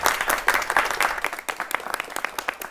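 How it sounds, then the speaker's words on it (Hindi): An audience claps in welcome for a guest at a Diwali cultural gathering, a dense steady patter of many hands close by, fading slightly toward the end with no voices. "ताली से आप स्वागत भी कर सकते हैं"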